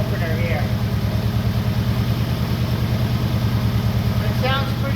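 Car engine fitted with a Holley carburetor idling close by, with a steady, even low throbbing pulse and a reported engine knock from a missing bearing; a voice is faintly heard over it.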